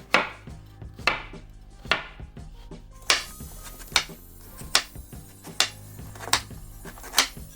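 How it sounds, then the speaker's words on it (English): Carrots cut with a knife on a board in big, coarse chops, a steady series of about ten sharp, close knocks roughly one per second, with no talking. "Carrots. Big chop is fine."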